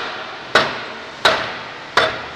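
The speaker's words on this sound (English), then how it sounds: "John tapped on the cover guide to push the slide down to the rubber for adjustment" A mallet taps the cover guide of a UHO-12 canal gate to push the slide down onto its rubber seal. Three sharp, evenly spaced knocks ring close and loud, each with a short decaying ring, with no other sound around them.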